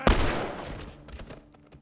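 A gunshot in The Last of Us: one sharp, loud report at the start, followed by a fading echoing tail and a few faint after-sounds.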